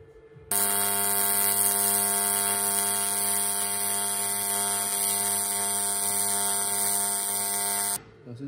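Electric welding on a license plate holder for a Yamaha XT500 motorcycle: a loud, steady buzzing hum with a strong harmonic tone that holds unbroken for about seven and a half seconds, then stops abruptly.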